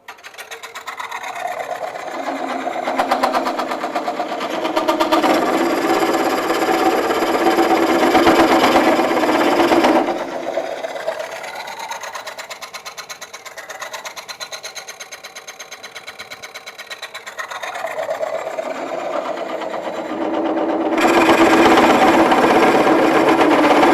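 Woodcut Tools Bowlsaver coring a wooden bowl on a lathe: a steady motor whir with two long stretches of harsh, rattling cutting noise, separated by a quieter running section.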